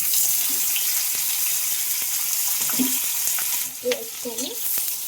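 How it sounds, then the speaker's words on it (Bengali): Chopped onions fry in hot oil with a dense, steady sizzle, while a few muffled stirring sounds and faint background voices come through now and then. "এটাকে একটু ভালো ভাজা ভেজে নিতে হবে"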